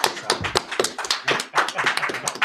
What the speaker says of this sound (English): let's give Zarar a round of applause, everybody